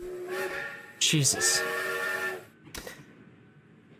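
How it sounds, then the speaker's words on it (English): A steam train whistle in a My Little Pony adventure game sounds as a loud, sustained harmonic blast with a second overlapping call, followed by a short sharp toot, while a voice briefly exclaims. "The train's whistle sounds once more"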